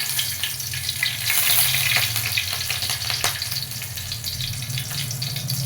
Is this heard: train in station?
no